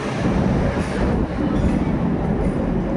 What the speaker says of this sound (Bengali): এইটা হচ্ছে এখানকার লোকাল ট্রেন